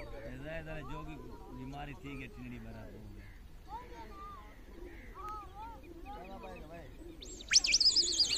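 Pigeons coo and chirp in a rooftop pigeon-flying contest setting, soft repeated calls mixed with background voices and ambient noise, ending in a brief louder burst.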